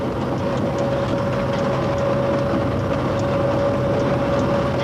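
Cab ride aboard a CC 6524 electric locomotive running at about 138 km/h near Choisy-le-Roi, giving a steady, loud rolling roar with a constant electrical whine throughout, no talk.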